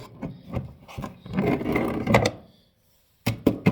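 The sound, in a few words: cleaning a box with a wet wipe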